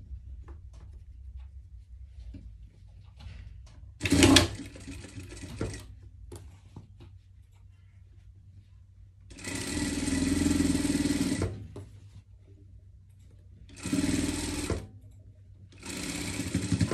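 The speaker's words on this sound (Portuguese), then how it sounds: "E vamos passar a costura aqui." A sewing machine stitches a seam on surgical clothing in bursts: a brief run, then a longer steady whir, then two more runs separated by quiet pauses, close by with no voices.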